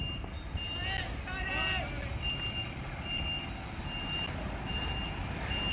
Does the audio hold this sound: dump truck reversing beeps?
yes